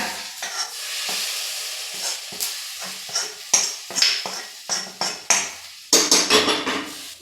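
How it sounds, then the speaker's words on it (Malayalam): Kerala-style curry being stirred in a pan with a spoon, a string of close, sharp scraping and clinking strokes over a light sizzle, growing busier toward the end, no talk. "നല്ല പാങ്ങിൽ ഇളക്കാം."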